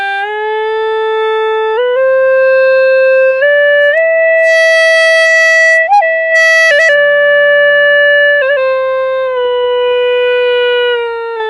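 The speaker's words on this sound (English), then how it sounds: "So this instrument is called the Hulusi. It is a Chinese free reed instrument," A reedy, buzzing free-reed pipe plays a slow sustained melody, stepping between held notes with a constant drone beneath, close and fairly loud.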